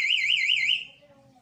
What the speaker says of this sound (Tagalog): Sana may natutunan kayo nga kung paano mag-install ng alarm